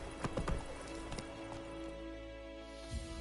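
Horse hooves in The Witcher 3 as Geralt's horse Roach sets off, a quick run of clopping hoofbeats early on, then a steadier ambient bed with a final soft hoof thud.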